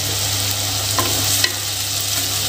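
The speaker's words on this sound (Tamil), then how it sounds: "வெங்காயம் வதங்கும் போதே வந்துட்டு நம்ம எடுத்து வச்சுருக்கிற 2 பச்சை மிளகா, தட்டி வச்சுருக்கிற இந்த பூண்டு பல் எல்லாத்தையும் போட்டுக்கலாங்க" Onions, green chillies and crushed garlic sauté in a pan for fish curry, giving a steady close sizzle with a few stirring scrapes around the middle, no voices.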